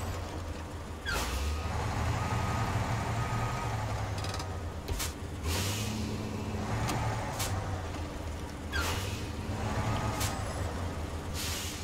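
A truck in the SnowRunner video game reverses to hitch a fuel carrier semi trailer, its engine a low steady rumble broken by several sharp bursts of air hiss spaced a few seconds apart.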